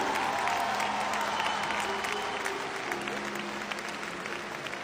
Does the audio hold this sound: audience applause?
yes